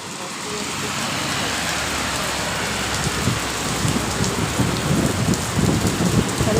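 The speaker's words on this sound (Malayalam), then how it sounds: "കണ്ടോ മഴ പെയ്യുന്ന കണ്ടോ" Heavy rain pouring down in Dubai, a dense continuous roar of water with a few louder splashes and patters building toward the end; nobody speaks.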